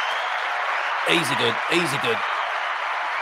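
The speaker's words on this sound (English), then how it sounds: "nice big round of applause" A studio audience claps to welcome a guest onto a Portuguese café quiz show, the applause rolling steadily underneath as someone speaks briefly over it in the middle.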